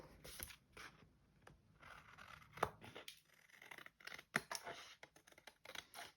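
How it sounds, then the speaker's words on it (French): Scissors snipping through a scrapbooking paper page, a run of quick, close, crisp cuts with small rustles of the sheet between them, fairly quiet and irregular, with no voice. "on vient découper notre première page"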